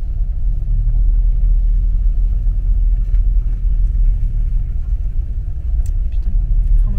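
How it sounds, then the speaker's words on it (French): A van grinds along an offroad track under engine braking, its engine giving a steady, loud low rumble close to the microphone with rough road noise throughout. "je suis au frein moteur"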